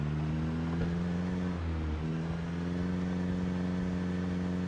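A car engine in the zombie survival game Project Zomboid runs with a steady, harmonic mid-range drone that rises and dips briefly as it revs for the drive, then settles into a continuous hum.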